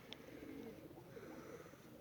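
Soft, low cooing from racing pigeons at a loft, faint and somewhat distant, with a brief higher chirp near the start.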